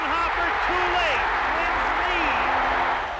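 Metrodome crowd at a World Series baseball game roaring steadily and loudly throughout, a dense wash of cheering with a few whistles rising above it.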